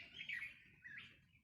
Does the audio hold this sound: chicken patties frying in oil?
no